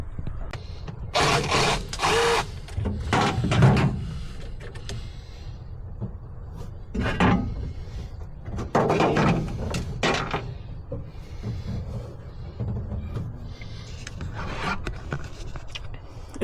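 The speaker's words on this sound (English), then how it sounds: "So let's pull off the shifter." A stuck gear shifter is being worked off a Suzuki DRZ-400SM motorcycle, producing close, intermittent bursts of metallic scraping, rasping and clunks separated by short pauses.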